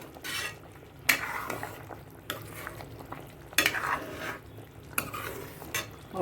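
Sweet potato kofta cooking in a pan with green coriander, stirred in slow repeated sweeps: soft sizzling under intermittent scraping and clinks of a spoon against the pan, close and moderately quiet.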